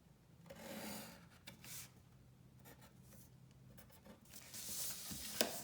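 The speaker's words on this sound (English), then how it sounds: "we're going to draw a horizontal line like this" A pen or marker draws a horizontal line on a graph, a soft continuous scratching and rubbing across paper in a few strokes, quiet and close with no talking.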